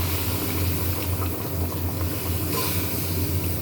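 Hot water poured into a pan of spiced, well-fried ingredients makes a continuous loud hissing, bubbling rush over a low hum, with no break throughout.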